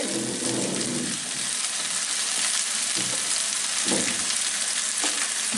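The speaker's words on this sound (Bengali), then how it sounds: "আমি কুচি কুচি করা ফুলকপি আমার রুচি মতো পাতাকপি আর একটু গাজর দিয়ে এটাকে ভেজে নিব একসাথে" Chopped cauliflower, cabbage and carrot fry with chicken in a pan, giving a steady loud hiss of sizzling oil. Stirring scrapes break through in a few short bursts.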